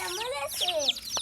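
Backyard chickens give a quick run of gliding clucks and squawks lasting about a second, close and moderately loud, one sound blending with the next.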